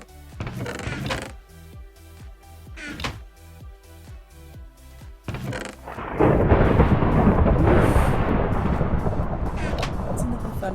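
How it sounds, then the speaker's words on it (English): Thunder rumbles in a Minecraft world during a storm, a deep booming roll swelling near the middle and lingering loudly, with rhythmic background music and pulses playing beforehand. "Listen to the thunder out there."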